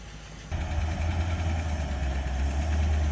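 A Packard car engine, running for the first time in years, starts up and rumbles at a steady low idle, close and loud, with no talking.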